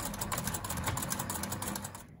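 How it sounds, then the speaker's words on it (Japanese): A sewing machine runs continuously while stitching once around the neckline of a square blouse, joining the bodice and facing right sides together; a steady, close, rapid mechanical whir fills the whole stretch alone. "身ごろと見返しを中表になるように合わせたら襟ぐりを一周ミシンで縫います。"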